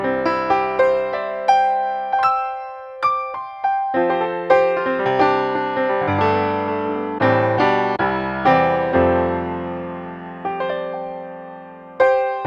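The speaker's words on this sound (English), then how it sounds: "something like this baby grand piano sounds like this" A sampled baby grand piano in the Serum synthesizer plays a slow, melodic passage of single notes and chords, each note ringing and decaying clearly, with no talking.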